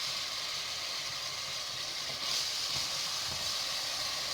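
Chopped onion sizzles in about half a cup of hot oil for mutton liver (kaleji) masala: a steady, close, dense hiss that swells slightly midway, with no talking.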